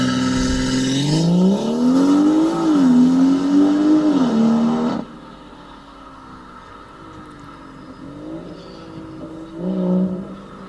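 A BMW M140i with its B58 engine and a modified exhaust revs loudly up close, holding a strong, rising and falling engine tone for several seconds. It then drops sharply to a low idle, followed by a couple of shorter blips.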